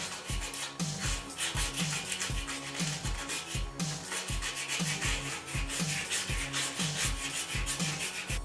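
Steady rhythmic sanding of brake shoes scrapes back and forth at an even pace, loud and close, with no talking.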